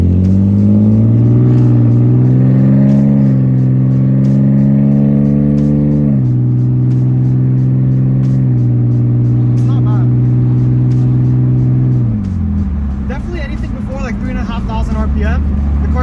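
A BMW E46 with the M54 inline-six, running catless eBay headers and a straight pipe, accelerates at partial throttle while merging onto a street. A loud, rising exhaust drone climbs through the revs, dropping sharply at two gear shifts.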